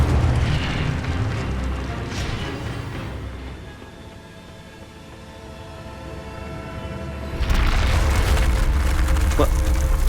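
In the Hogwarts Legacy video game, an Incendio fire spell releases a loud, sustained roaring burst that swells, eases off, then surges again abruptly near the end, dense and close.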